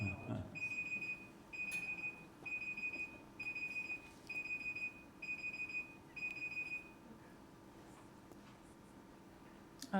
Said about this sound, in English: I've never used this timer before.